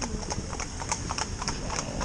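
Gypsy Cob horses hitched in tandem give off a brisk, steady clip-clop of hooves, close and rhythmic with a bright ringing click on each strike, over a low rumble of movement.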